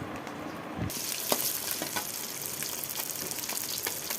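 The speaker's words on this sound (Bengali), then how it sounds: "মাছটা ভাজা হয়ে গেছে। আমি মাছটা আমি তুলে নিচ্ছি।" Fish frying in hot oil in a pan, a loud, continuous crackling sizzle close up, with a few sharper pops and spatters scattered through it.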